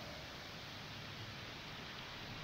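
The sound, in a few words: rain falling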